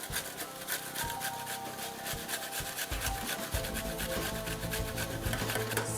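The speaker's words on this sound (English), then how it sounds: "Now we're going to grate our onion." An onion is rubbed across a kitchen grater for Turkish karniyarik, producing a fast, even train of close, loud rasping strokes that runs the whole time with no talking.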